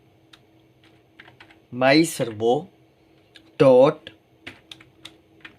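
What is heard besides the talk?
typing code on a computer keyboard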